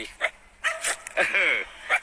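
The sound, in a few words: dog barking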